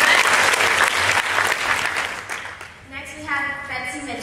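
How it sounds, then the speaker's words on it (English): Audience at a San Diego Comic-Con panel clapping loudly and continuously, with a voice speaking over the tail of the applause as it fades. "round of applause"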